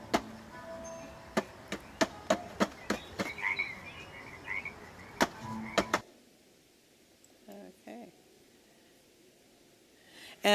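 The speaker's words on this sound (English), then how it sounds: "there's actually some frogs embedded in that piece of sound that you could bring up by stepping on the lights" Frog croaks from an interactive sound installation, set off by stepping on lights, ring out as a series of sharp, clicking calls over a low ambient bed, then the sound drops to a quieter hush.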